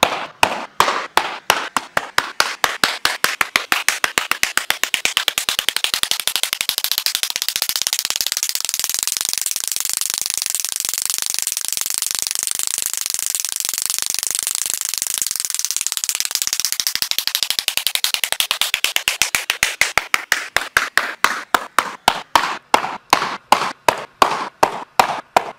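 Baseballs fired from a pitching machine smack into a stiff new SSK Z Pro leather glove in a long, rapid run of sharp, loud, evenly spaced pops over a mechanical whir that swells and fades.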